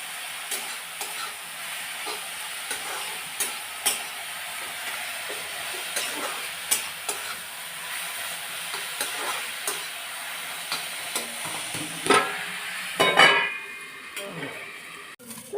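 Dhes leafy greens stir-fry in a pan, giving a steady sizzle and hiss broken by repeated scraping and clinking as the spoon turns them, and faint talk sits in the background.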